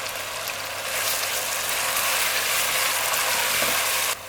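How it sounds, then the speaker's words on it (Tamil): Tomatoes and onions sautéing in a pan, a steady, close crackling sizzle with faint stirring scrapes that holds for about four seconds and then drops off abruptly. "தக்காளியும் வெங்காயமும் நல்லா கரையிற வரைக்கும் நம்ம வதக்கி விடணும்"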